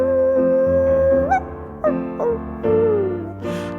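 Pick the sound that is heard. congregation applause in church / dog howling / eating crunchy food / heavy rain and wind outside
dog howling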